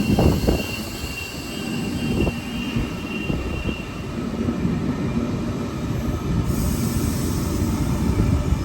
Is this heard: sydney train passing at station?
yes